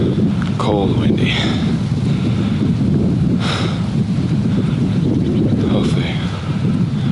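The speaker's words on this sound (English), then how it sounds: "It's windy up here today." Strong wind roars steadily across a microphone high on a cold Colorado mountain, a dense buffeting rush throughout, with someone speaking briefly over it.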